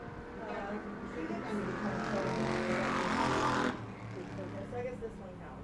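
A Bomber 'B' class race car lapping during qualifying at New Smyrna, its engine roar building to a loud peak as it passes close, then dropping away abruptly, with faint commentary voices underneath.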